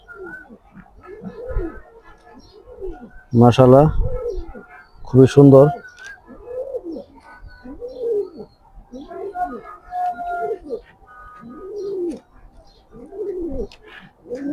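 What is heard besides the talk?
racing pigeons cooing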